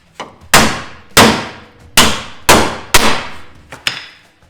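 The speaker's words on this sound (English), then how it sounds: "Now I'm going to take my big hammer and give them a whack" Heavy hammer striking bolts on the rear crossmember of a Willys Jeep during restoration, five loud ringing metal whacks spaced about half a second apart, then a couple of lighter taps, with no talking.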